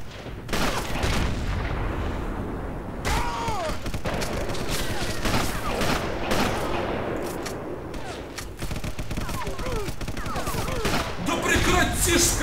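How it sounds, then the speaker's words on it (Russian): Rapid bursts of gunfire from the Sniper Elite shooter game, with dense overlapping shots and booms filling the whole stretch, close and loud, and a voice talking over parts of it. "Я только стреляю! Бах!"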